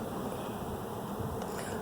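A dense, steady buzzing of a honeybee swarm fills the air continuously, close and even, with no voices.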